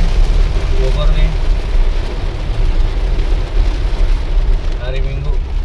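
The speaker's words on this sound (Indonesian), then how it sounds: "hujan deras banget nih Bogor nih" Heavy rain pours steadily onto a moving car in Bogor, a dense constant roar under low road rumble, with faint tonal sounds from inside the car drifting over it.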